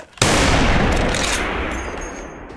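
A sniper rifle shot fires in the shooter video game Soldier Front 2, a single loud sharp crack with a long fading tail of rumble and echo, no voices over it.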